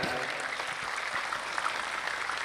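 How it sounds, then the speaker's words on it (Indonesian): Steady, fairly distant crowd applause from a large outdoor sholawat gathering in Kaliwungu, Kendal, cheering the Az-Zahir group, a dense even patter without breaks. "tepuk tangan untuk Az-Zahir."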